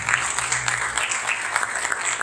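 Applause rises in a church service after the congregation is asked to clap for God, a steady, dense patter of many hands filling the room, moderately loud and continuous with no talk over it.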